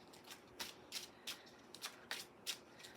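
A fresh-out-of-the-box holographic, highly reflective Shuttle Mirror deck of playing cards being shuffled by hand, with repeated soft riffling bursts about every half second, close and fairly quiet, with no talking.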